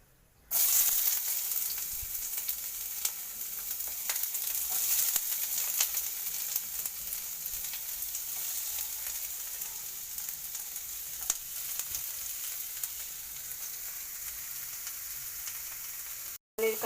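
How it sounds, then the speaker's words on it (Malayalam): Onions and tomatoes sauté in hot oil with a continuous, even sizzle and occasional faint crackles, starting abruptly and cutting off at the end. "നമുക്ക് ഉള്ളിയും തക്കാളിയും വാട്ടിയെടുക്കാം."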